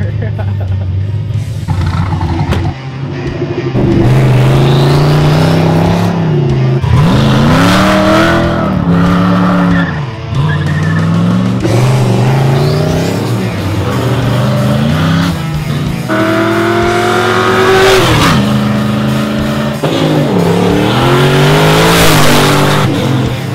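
A loud, powerful turbocharged LS V8 in a 1969 Camaro revs and accelerates hard past, its pitch climbing through gear after gear as it roars close by.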